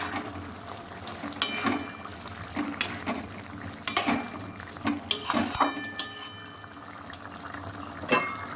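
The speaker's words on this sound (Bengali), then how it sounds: "তিন চার মিনিট পর মাছটা আমি" Rui fish pieces simmering in kalia curry are turned over in a pan, with a series of sharp metal utensil clanks and scrapes over a soft bubbling background, irregularly spaced and close.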